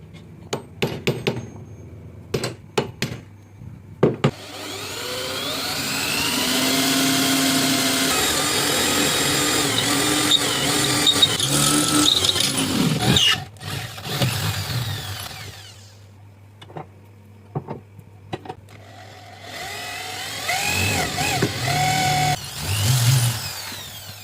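A power drill boring holes into the sides of a steel bolt, a steady whining drill run lasting about ten seconds with shorter bursts and tapping around it, close and loud.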